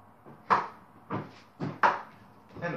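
Storage cabinet doors are swung open and shut repeatedly, five close knocks and thumps spaced roughly half a second apart in a quiet room.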